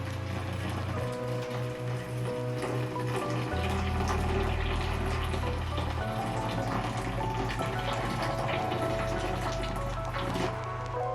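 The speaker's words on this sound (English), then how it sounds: "I'm gonna pour this until it fills up just the bottom part of the basin" Water poured steadily into the bottom of a home steam bath basin for herbs and hops, a continuous close splashing trickle that runs unbroken for about eleven seconds with no talking.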